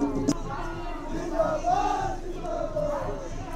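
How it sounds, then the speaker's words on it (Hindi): A large crowd gathers at a chief minister's political road show in Bageshwar, Uttarakhand, with a steady mass of chanting and shouting voices at a moderate distance and a few louder cries rising above it. "रोड शो में लोगों की भारी भीड़ थी।"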